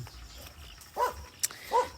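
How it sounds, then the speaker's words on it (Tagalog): A dog barks a couple of times at a distance on a farm where onions are planted, two short yelps separated by a sharp click, over a quiet outdoor background. "maririnig yung mga tahol ng aso"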